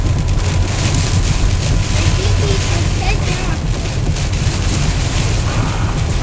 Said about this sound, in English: It's gusting pretty good up there